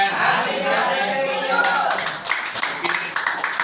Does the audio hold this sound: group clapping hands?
yes